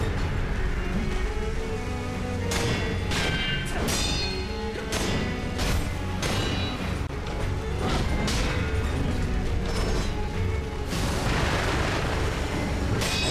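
Firecrackers from the prosthetic tool in Sekiro: Shadows Die Twice go off during a boss fight as a string of loud crackling bursts and impacts over a dense, continuous wash of game sound and music.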